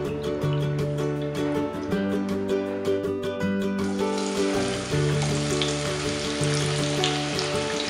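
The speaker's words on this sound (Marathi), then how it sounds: "कांदा आपला मस्त की गोल्डन रंगापर्यंत परतून घेऊया" Sliced onions sizzle steadily in a few spoonfuls of hot oil in a preheated pot as they fry toward golden, a continuous frying hiss running under loud background music with no speech.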